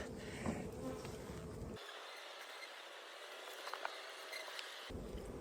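Honey bees buzz close and continuously in an open hive, a dense humming drone with no voices, and a deeper rumble comes and goes around it.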